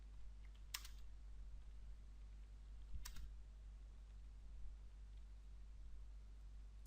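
Computer keyboard keys are pressed in two brief, faint bursts of clicks over a quiet background hum while a slide title is typed in PowerPoint.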